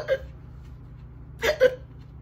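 A voice imitates hiccups during a children's story time, with three short, sharp vocal hiccup sounds, one at the start and a close pair near the end, separated by quiet.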